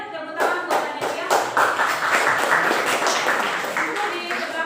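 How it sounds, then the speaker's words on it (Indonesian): Classmates clap for a student in a school classroom, a steady patter of hand claps lasting several seconds at moderate loudness, with some voices mixed in. "Tepuk tangan buat Adelia."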